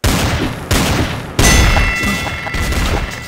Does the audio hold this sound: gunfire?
yes